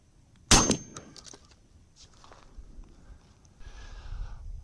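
A shotgun fires a single Federal Premium Flight Control shell, one sharp, loud blast followed by a short ringing tail and then quiet background noise.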